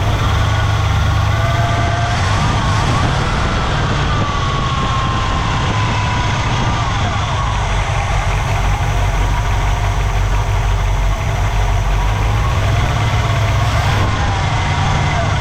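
A 1964 Pontiac Catalina barn find idles continuously after decades of sitting, its engine a loud, steady rumble with a slightly rough, knocking character throughout, close by and uninterrupted.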